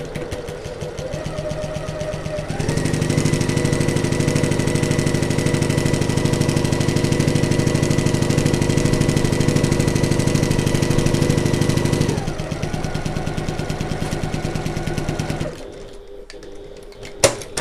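A sewing machine stitches the top and bottom seams of a midi bag, whirring in a fast, even mechanical chatter for about ten seconds, then slowing into a lighter run before stopping with a small click.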